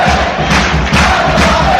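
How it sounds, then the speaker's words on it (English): Newport County Exiles fans at the FA Cup tie against Manchester United cheer and chant loudly as a dense crowd roar, pushing for a very late equaliser, sustained throughout with no gaps. "the Exiles fans doing their bit to try and cheer their side to a very late equaliser here"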